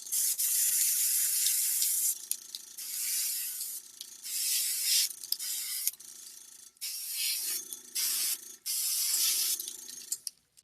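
A spray can primes miniatures in repeated hissing bursts of a few seconds each, separated by short pauses, with a low mechanical hum running under several of them, close and fairly loud.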